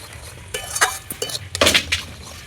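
A spoon stirs and scrapes spice masala in a pot while it sautés for biryani, giving several clattering metal knocks and clinks over a soft sizzle, the loudest scrapes bunched toward the end.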